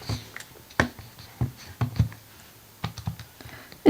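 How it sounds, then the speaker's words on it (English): Fingers press buttons on a TI-84 calculator keypad, making a run of small, quiet plastic clicks at an uneven pace, alone and close up. "Then I want to type in 10"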